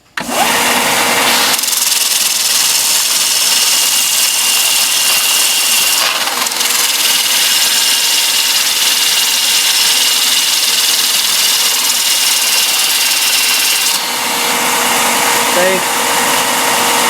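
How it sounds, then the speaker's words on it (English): A powered sander grinds down a wooden lanyard bead, giving a loud, steady abrasive whine that runs almost without a break, with a short pause partway through. "We'll sand it down till it's all rounded and smooth."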